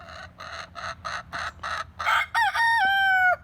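Chickens in backyard coops cluck in a steady run of short, evenly spaced calls, then a rooster lets out a loud, drawn-out crow close by.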